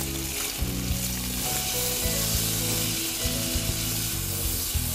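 Steak frying in a hot pan, a loud, dense, continuous sizzle with crackling spatters and a low steady hum throughout, no voices.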